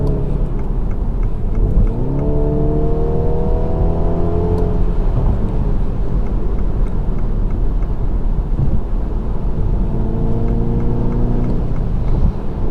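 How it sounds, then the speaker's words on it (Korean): A MINI Countryman S at full throttle in sport mode, its engine climbing through rising revs with a brief dip at a gearshift, then pulling hard again in a loud, continuous, close drone. "꽤나 방방거리는 소리를 내면서 시원시원하게 잘 달립니다"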